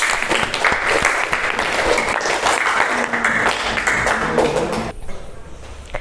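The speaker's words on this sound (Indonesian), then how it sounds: "Beri tepuk tangan untuk Mbak Belinda." A classroom full of students gives dense, close applause that holds steady for about five seconds, then drops away into quiet room tone.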